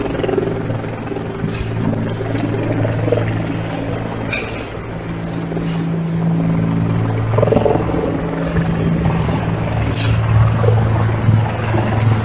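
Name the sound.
helicopter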